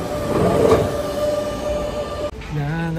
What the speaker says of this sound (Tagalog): Tingnan yung mga train nila, oh. Ayan na ang train.